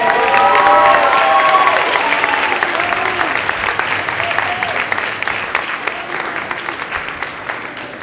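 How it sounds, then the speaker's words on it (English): Applause for nominated resident assistants at a university awards night, loud and close, with a few cheers mixed into the clapping before it slowly thins out. "Let's give a final round of applause for all of the RAs who are nominated tonight."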